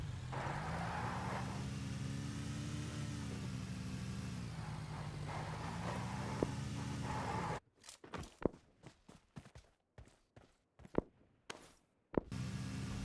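A car in the PUBG Mobile video game drives with a steady mid-pitched engine hum that shifts in pitch, cuts out into footstep-like thuds for a few seconds, then the engine resumes.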